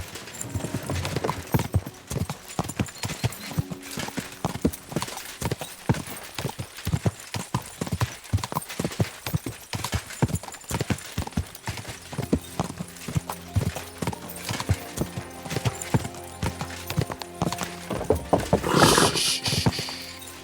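Steady clip-clop of horse hooves in a quick, even rhythm in the video game Kingdom Come: Deliverance 2, with a brief louder burst near the end.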